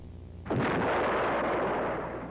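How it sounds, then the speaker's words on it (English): A Lockheed AH-56A Cheyenne helicopter fires a TOW missile, a sudden loud blast that swells into a sustained roaring rush lasting about two seconds before easing slightly. "as Cheyenne launches its missile"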